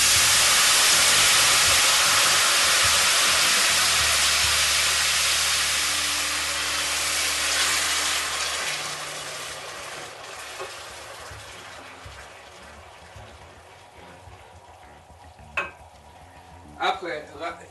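Rice browned in a pan and deglazed with a glass of white wine gives a loud, continuous sizzle and steamy hiss that slowly fades and quietens over the span, with a few faint clinks near the end.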